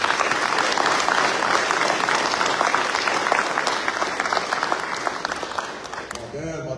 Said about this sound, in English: Clap it up for mom.